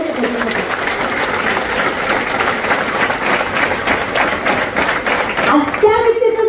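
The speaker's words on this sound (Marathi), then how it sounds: "एकदा जोरदार टाळ्या झाल्या पाहिजे." A large audience claps loudly and continuously at a motivational seminar, a dense wall of applause with a few voices mixed in, and a person begins speaking near the end.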